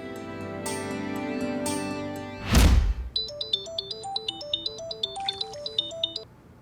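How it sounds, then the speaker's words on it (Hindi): After a sudden whooshing thump, a phone rings with a bright, repeating melodic ringtone that plays several clear notes before stopping. "सुबह सुबह कान्हा का फोन।"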